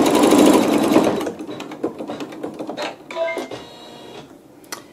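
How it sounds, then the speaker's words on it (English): A sewing machine stitches along a gray seam line on a quilt block, a loud close whirring run that slows into a few stuttering stitches before stopping. "I will drop the needle just so it lines up with that gray seam line and stitch that one."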